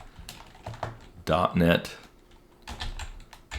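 Quick clatter of keystrokes on a computer keyboard while coding, rapid clicks running throughout under a person speaking close by.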